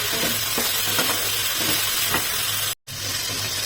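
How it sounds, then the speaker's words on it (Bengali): Vegetables frying in a pan with a spoonful of salt and a little turmeric, giving a steady loud sizzle with stirring scrapes, briefly cut to silence near the end before resuming. "ভালো করে আমি এখন সবজিগুলোকে ভেজে নেব"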